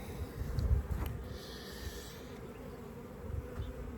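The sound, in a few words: honey bees buzzing at a drone-laying hive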